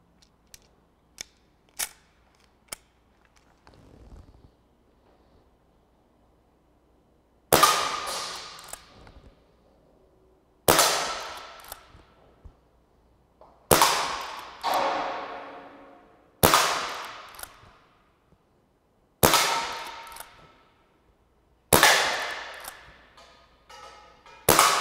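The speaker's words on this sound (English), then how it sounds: "That's the FX Ranchero pre-charge pistol." An FX Ranchero pre-charged air pistol fed from an 8-shot magazine fires six sharp, loud reports, each with a short ringing decay, spaced a few seconds apart. Faint clicks of handling come before the first shot.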